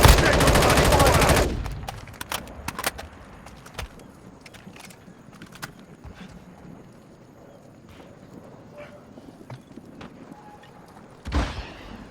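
Gunfire in Call of Duty: Warzone, an opening loud burst of rapid automatic fire for about a second and a half, then scattered distant single shots and footsteps, with another close burst near the end.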